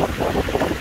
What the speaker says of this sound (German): aber natürlich auch sehr windig.